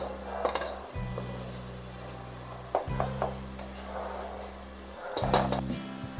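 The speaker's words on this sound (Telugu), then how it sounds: "ఆ పేస్ట్ వేసిన తర్వాత ఇలా ఒక టూ సెకండ్స్ పాటు హై ఫ్లేమ్లో పెట్టుకొని కలుపుకోవాలి" Spice paste stirred in a pan over a high flame while cooking a Chennai-style fish curry, giving soft scraping stirs and a light sizzle over a steady low hum, with a couple of louder clattering bursts.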